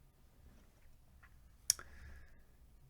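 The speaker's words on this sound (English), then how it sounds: "Just click on the links here for a download." A single sharp computer mouse click on a download link, close and crisp against a quiet, faint room background with no talking.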